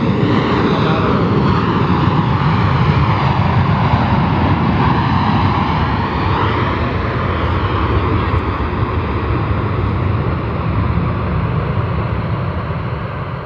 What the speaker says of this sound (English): It's coming from the west tonight, and there it is, Air Force One.